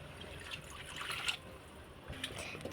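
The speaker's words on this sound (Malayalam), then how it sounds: "അപ്പം നമുക്ക് കുറച്ച് വെള്ളം ഒഴിച്ചെടുക്കാം." Water poured into chicken cooking in a pot makes faint, close trickling and dripping splashes that come and go, ending with a sharp clink.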